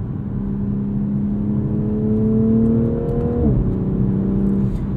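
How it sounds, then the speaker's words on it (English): A 2021 Toyota Supra 3.0 Premium pulls hard in second gear, its engine note climbing steadily and loudly from inside the cabin, then dropping abruptly at the shift before settling again. "That shove that you get on a second gear pull"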